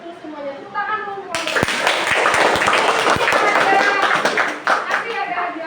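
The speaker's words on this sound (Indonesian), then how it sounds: "Tepuk dulu" A school class bursts into rhythmic group hand clapping after a voice speaks. The clapping is loud and close and continues for several seconds as a dense patter.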